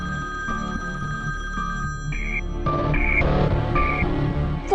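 A phone ringtone chirps in short repeated bursts inside a Pakistani TV drama scene, sounding over steady background music with no talking.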